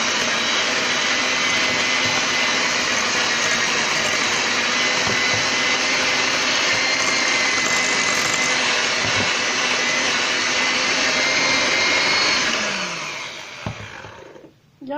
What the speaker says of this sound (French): Je commence à mettre le beurre dans un bol, un grand saladier, et je le fouette, je le mélange un tout petit peu.